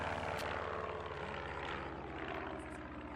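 Propeller airplane droning overhead in the VR game Placid Plastic Duck, a steady low engine hum with pulsing propeller tones and no talk.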